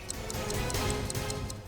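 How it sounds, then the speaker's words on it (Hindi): A clock ticks steadily in a tense moment inside a vehicle during a hostage situation, with bright, evenly spaced ticks repeating about every third of a second over a low rumbling background. "घड़ी की आवाज"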